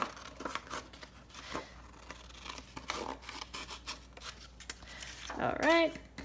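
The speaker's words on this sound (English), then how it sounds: "Cut the top." Scissors snip paper for a travel junk journal, giving a few soft, close cuts and rustles, with quiet talk alongside.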